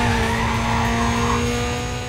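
Race car engines drone loudly in NFS Carbon, with tires squealing and skidding through a continuous, close, high-revving stretch of in-game driving.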